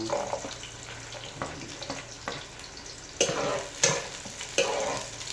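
Garlic frying and sizzling in a pan while cooking adobo, a steady close hiss with a few louder bursts as it is stirred.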